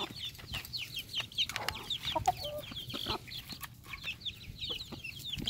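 Chickens cluck and chirp continuously at close range while feeding, a busy chorus of short repeated calls over a steady background, with no talking.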